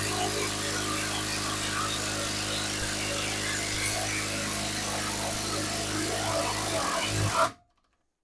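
A Grosser GID 230N cordless impact driver on fourth speed backs out a 40 cm construction screw with a loud, steady, close buzzing drone that runs continuously and then cuts off abruptly into silence.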